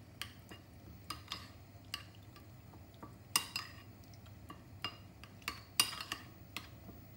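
A spoon scrapes and clinks against a bowl as harissa paste is stirred into a little water for lablabi, giving repeated close, light taps and scrapes in an irregular rhythm with no talking.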